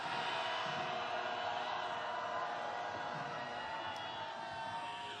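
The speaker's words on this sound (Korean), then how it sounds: "윤석열 탄핵의 함성 시작!" A large outdoor protest crowd at a candlelight march calling for President Yoon Suk-yeol's impeachment roars and cheers in a steady, sustained swell with no pauses.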